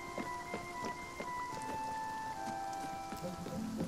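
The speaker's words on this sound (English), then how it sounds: "Loving that rain." Rain patters steadily in the video game Spiritfarer, a soft even wash under a sustained chiming musical drone with scattered plucked notes.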